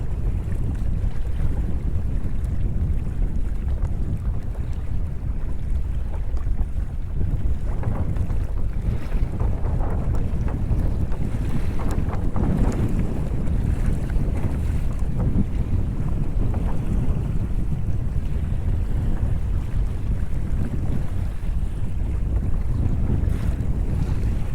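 A Hobie Outback kayak sails through choppy water in strong wind, with loud, steady wind buffeting the microphone over continuous splashing and sloshing of waves against the hull.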